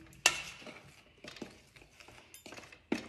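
Banana bread ingredients and sugar are stirred in a bowl with a utensil, giving several sharp clinks and scrapes against the bowl at irregular intervals, close and fairly quiet, with no talking.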